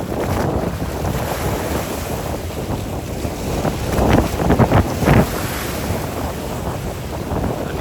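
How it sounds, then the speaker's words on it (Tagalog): Strong wind buffets the microphone over the rushing crash of large waves at Isla Pugad, Hagonoy, Bulacan, loud and continuous, with no voices. "Sobrang lakas ng hangin, kaya sobrang laki ng alon"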